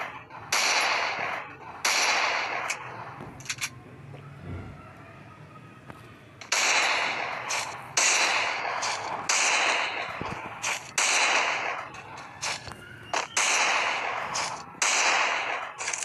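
Desert Eagle pistol shots in the mobile battle game Free Fire, sharp loud cracks fired in quick repeated clusters with brief quiet gaps between volleys, with no talk over them.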